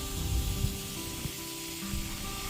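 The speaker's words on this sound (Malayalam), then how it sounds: "ഇനിയിപ്പോൾ വെണ്ടയ്ക്ക ഒന്ന് വഴറ്റിയെടുക്കണം." Okra sautés in a pan with a continuous soft sizzle and hiss, close and moderately loud, broken by a few light stirring scrapes and thumps.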